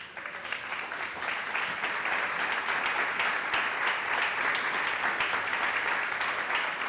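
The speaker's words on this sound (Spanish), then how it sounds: "¿Cuántos le dan un aplauso a Dios?" Church congregation clapping during worship, a thick, sustained round of applause that stays steady and fairly loud for several seconds.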